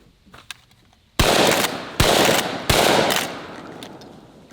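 A trench shotgun fires three loud, sharp blasts at helium balloons, each about three quarters of a second apart with a ringing decay, close by outdoors, after a couple of faint clicks.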